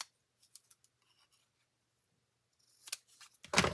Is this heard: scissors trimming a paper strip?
yes